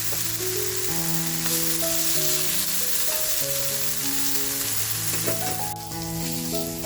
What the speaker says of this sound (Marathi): दुसऱ्या बाजूने सुद्धा असा छान बोंबील आपला फ्राय झालेला आहे